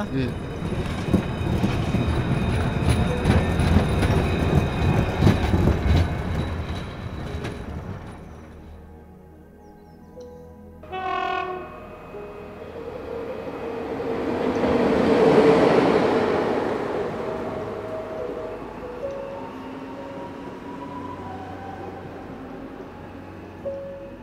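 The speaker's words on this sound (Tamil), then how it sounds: "ஐயா ட்ரெயின் வருது, பார்த்து பத்திரமா போயிட்டு வாடா." A train rumbles past, then a horn sounds briefly, and a roaring whoosh swells and fades as it arrives, with voices talking at times.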